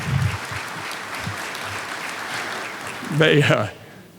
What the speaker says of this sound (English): Everybody give them a welcome, a round of applause for putting this thing together